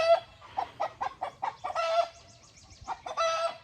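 Homestead chickens cluck nearby in a quick run of short, rhythmic clucks, then a drawn-out squawking call, more clucks, and a final longer cackle, loud and close with no talk.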